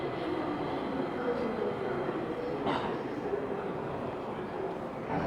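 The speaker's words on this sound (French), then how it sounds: "Je prends le métro, vous allez m'excuser." Steady rumble of a metro train in motion, heard from inside the car, continuous and fairly loud with a brief brighter wheel hiss midway.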